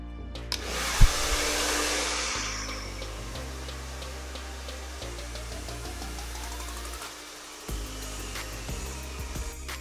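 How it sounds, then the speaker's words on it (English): A handheld hair dryer blows continuously as hair is dried in small sections before flat ironing. Its steady whooshing roar shifts in pitch as the airflow changes, and a brief dip comes near the end. "I'm gonna take smaller sections and dry it a little bit more"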